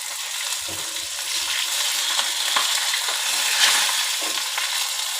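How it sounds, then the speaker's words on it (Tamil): Fish sizzling and crackling steadily in a little hot oil in a kadai, a dense hiss with small pops throughout, close by and fairly loud. "கடாயில் கொஞ்சமாக எண்ணெய் ஊற்றிக்கிட்டு 2 அல்லது 3 போட்டு ஃப்ரை பண்ணி எடுத்து வச்சுடுவேன்"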